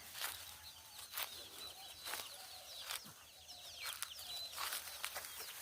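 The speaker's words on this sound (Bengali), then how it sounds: "আর সামনে পড়লো মুরগি এবং মুরগির বাচ্চা।" A hen and her chicks in a village yard: the hen gives low clucks while the chicks keep up a stream of high, thin peeps. Both are close and moderately loud, with no talking.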